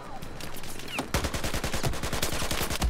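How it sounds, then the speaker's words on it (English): Rapid automatic gunfire in the video game Battlefield 4, a long continuous burst of evenly spaced shots that starts after a quieter opening second and stays loud to the end. "I shot so many bullets"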